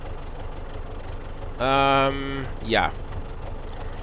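A Belarus MTZ 80 tractor idles in Farming Simulator 19 with a steady low engine drone, while a voice briefly cuts in over it.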